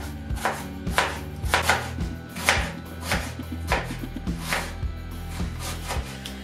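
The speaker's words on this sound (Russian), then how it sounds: "Все будем нарезать достаточно крупно" Steady, rapid knife chops of vegetables on a cutting board, cut fairly coarse, sharp repeated strikes in an even rhythm, close and fairly loud with no talking.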